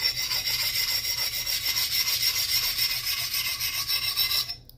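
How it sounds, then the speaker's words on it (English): A steel file rasps steadily across an axe blade during sharpening, a continuous gritty scraping at close range with a fast, even back-and-forth texture that stops abruptly at the end. "you're just trying to grind down any bald spots there are on the axe"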